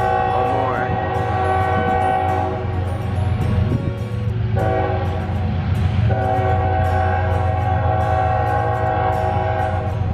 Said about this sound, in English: It's the city train that comes through here once a week